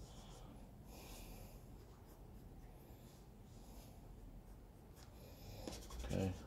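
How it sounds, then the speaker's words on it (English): Pencil scratches steadily across paper as a self-portrait is drawn, a soft continuous rasp of strokes close by with quiet room noise, ending in a slightly louder rustle. "I'm just letting the pencil dance around me, basically."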